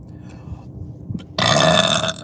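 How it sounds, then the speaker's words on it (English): A deep, loud burp from a woman rolls out for nearly a second after quieter throat sounds and low murmurs, ending abruptly. "I have a burp already."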